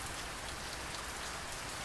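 Steady rain falls in a close, dense patter with no breaks, a continuous wash of drops on a surface used as a background effect in a fantasy audio drama.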